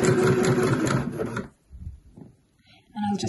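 A sewing machine runs a straight or stretch stitch along a velvet t-shirt seam, a steady mechanical whir for about a second and a half, then stops, with short handling noises and a brief burst of stitching at the end.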